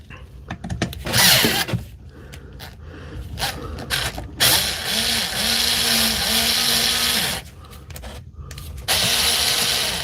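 Milwaukee power tool under repair driving screws, its motor whirring and ratcheting in several loud bursts separated by short pauses and mechanical clicks.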